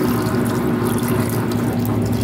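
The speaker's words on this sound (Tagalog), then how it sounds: "maglalagay po tayo ng tubig na tubig." Water runs steadily from a tap into a pot for cooking hasa-hasa fish, a continuous loud rushing fill with no pauses.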